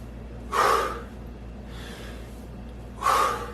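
A person doing slow hip mobility squats takes two loud, sharp breaths through the nose, a few seconds apart, with a softer exhale in between, heard close up in a quiet room.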